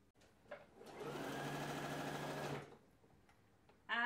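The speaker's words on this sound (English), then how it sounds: "It really depends what kind of sewing machine you've got." Sewing machine running a continuous stitch along an upcycled T-shirt, a steady close whirring hum lasting about a second and a half between quieter handling sounds.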